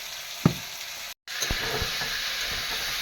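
Potatoes frying in a pan give a steady, close sizzle, with a few sharp clatters from stirring and a brief moment of silence partway through.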